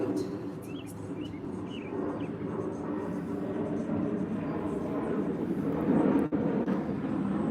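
An airplane passes overhead near a major international airport, a steady low engine rumble that swells gradually, with faint birdsong in the background.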